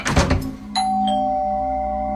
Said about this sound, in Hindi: तो डोरबेल बजी।